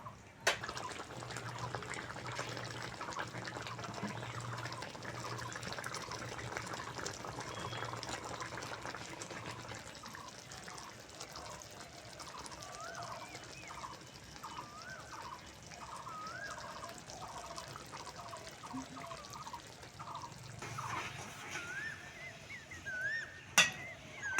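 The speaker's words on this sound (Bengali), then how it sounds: "বেগুন দিয়ে দিয়েছি এবার পাঁচ মিনিট ফুটিয়ে নেবো" An eggplant curry (begun jhal) simmers steadily in a pot, giving a continuous soft bubbling and liquid burble with faint popping, close by and moderately quiet, with no talking.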